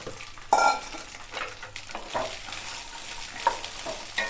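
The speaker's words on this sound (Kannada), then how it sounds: "ಒಂದು ಕಡಾಯಿ ಇಟ್ಟು ನೋಡಿದ್ರೆ ಸ್ವಲ್ಪ ಒಂದು ಸ್ಪೂನ್ ಅಷ್ಟೇ ಎಣ್ಣೆ ಹಾಕಿದ್ದೀನಿ ಈಗ ಗೊಂಜಾಳ ಹಾಕಿದ್ದೀನಿ ಚಂದಾಗಿ ಹುರ್ಕೋಬೇಕು ರೀ" Sweet corn kernels roast in a spoonful of oil in a kadai for sweet corn upma, a close steady sizzle under repeated scraping and stirring strokes, with an occasional light metallic tap and no speech.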